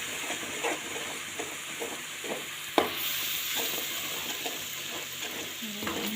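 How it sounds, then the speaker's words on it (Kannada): Ground spice powder fries in a pan, a steady soft sizzle with repeated scraping stirs and one sharper clatter partway through, no voices. "ನೀಟಾಗಿ ಫ್ರೈ ಮಾಡಬೇಕು ಅದನ್ನು."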